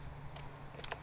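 A few light keystrokes on a computer keyboard while typing a command into the Windows 11 Command Prompt, faint, sparse clicks over a quiet hum with one sharper tap near the end.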